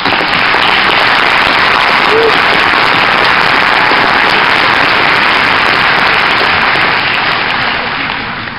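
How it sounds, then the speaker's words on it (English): Loud, sustained applause fills a high school graduation ceremony at Norton High School, a dense continuous patter of many hands clapping at once, steady for several seconds before beginning to thin near the end. "Let's pause here to applaud the teachers who contributed to, the parents who worked with, and the students who worked towards this remarkable achievement."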